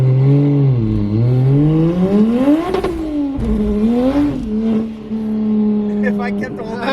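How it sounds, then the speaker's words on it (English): A single-turbo BMW N54 car with solid differential bushings, its engine droning and rising and falling with the revs, a tonal whine running underneath, and someone speaking over it. "I don't know if you guys can hear the diff bushings. Some nice whine."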